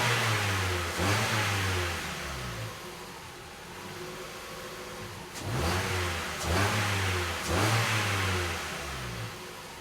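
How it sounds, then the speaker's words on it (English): A 2011 Ford Fiesta 1.25 Zetec with an O2 sensor circuit fault is revved repeatedly from idle, with several rising and falling engine swells heard close by and no talk. "Right, let's rev her up."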